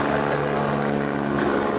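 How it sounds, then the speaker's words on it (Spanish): A helicopter flies overhead, a constant loud rotor and engine drone that fills the whole moment without a break. "El helicóptero."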